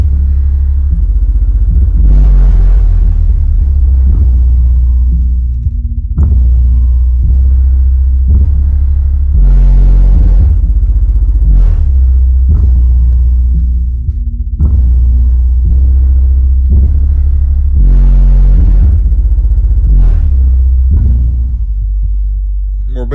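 Loud bass music pounds through subwoofers driven by a cheap 1000W amplifier, with deep booming low notes that pulse in repeated bursts and fill the whole stretch with heavy rumble.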